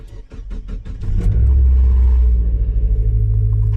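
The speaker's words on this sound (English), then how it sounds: "All right, let's start the car." A Mazda Miata MX-5 NB cranks with a rapid starter whir, catches after about a second, and settles into a loud, steady idle close by.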